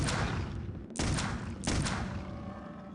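Three loud gunshots in the 2001 PC game Clive Barker's Undying, evenly spaced about a second apart, each a sharp blast with a long booming, reverberant tail, no talking.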